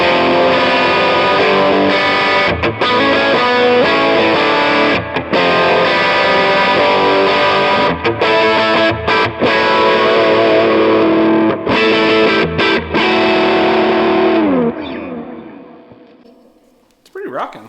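Electric guitar pushed through a small amp turned up even further, loud and distorted with dense crunchy chords and brief gaps between strums, then a decaying final chord near the end.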